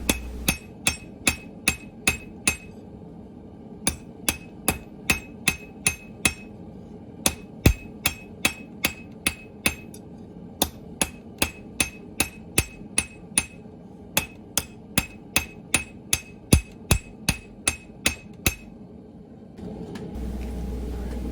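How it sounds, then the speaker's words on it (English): Close, sharp ringing blows of a small, light hammer on hot metal being forged into a wall hook come in quick regular bursts with brief pauses between, over a low background rumble that grows just after the hammering stops. "Lighter hammer, obviously you need to hit it more often, but for starting out, there's absolutely no reason to not use a small hammer"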